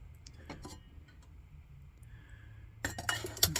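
Metal parts of a Kamplite lantern clamped in a vise clink and tap as its bell nut is removed: scattered light clicks, then a louder burst of ringing metallic clatter near the end.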